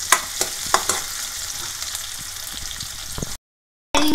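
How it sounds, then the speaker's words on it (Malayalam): Mustard seeds spluttering and popping in hot oil while cooking a drumstick leaf and jackfruit seed stir-fry, a steady close sizzle with sharp crackling pops, a brief silence near the end, then frying resumes. "കടുക് പൊട്ടിത്തെറിക്കുമ്പോൾ കയ്യ വീഴാതെ സൂക്ഷിക്കണം"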